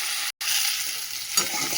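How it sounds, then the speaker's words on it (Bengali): Cauliflower and potatoes fry in hot oil in a pan with a steady close sizzle, broken by a brief silent gap near the start and a short burst of louder crackle toward the end. "একটু লাল করে কপি আলু সব ভেজে নিই"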